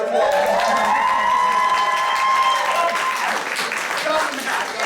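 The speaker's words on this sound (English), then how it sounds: "How about one more round of applause?" An improv theater audience at a Stephen King-themed show claps and cheers, with loud, sustained applause and whoops from a full crowd, mixed with voices and a lingering tone under the noise.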